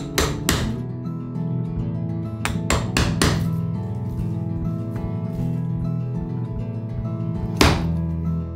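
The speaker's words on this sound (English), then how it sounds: "In this case, I set it alternately and chisel off." A hammer drives a chisel into a thick Japanese cypress board in a woodworking shop: sharp, solid knocks in quick clusters, two early, four in a rapid run, then a lone strike near the end, over a steady musical background.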